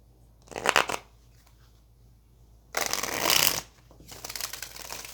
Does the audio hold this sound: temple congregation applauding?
no